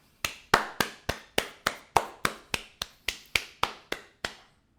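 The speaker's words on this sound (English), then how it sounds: "Let's clap it up." A few people clap together at a Los Angeles Lakers basketball practice, about sixteen sharp, evenly spaced claps in a steady rhythm that end abruptly, with nothing else heard.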